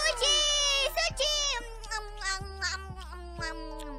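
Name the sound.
cat meowing in Minecraft video game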